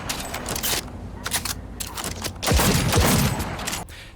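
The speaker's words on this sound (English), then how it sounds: "I think my favorite sounding weapon is probably Johnny's handgun." Johnny's handgun firing in Cyberpunk 2077: a run of loud, punchy shots with heavy booming tails and mechanical clacks, fired in quick succession amid dense game noise.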